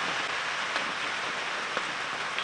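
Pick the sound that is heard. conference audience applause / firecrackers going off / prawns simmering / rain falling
rain falling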